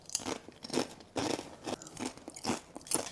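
A chili lime protein snack is crunched in a series of sharp, crackly bites and chews, close and fairly loud, with short pauses between them and no talk.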